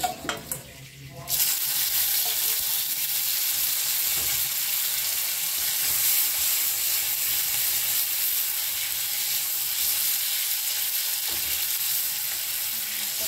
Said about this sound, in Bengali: ফোড়ন দিলাম, তেজপাতা দিলাম আর 5 ফোড়ন দিলাম তেলের উপরে